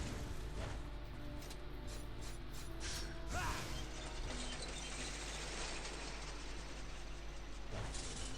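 An elevator mechanism in Onimusha 2: Samurai's Destiny grinds and clatters with a continuous mechanical rattle and ratcheting, with a brief louder burst partway through. The sound is moderately quiet throughout.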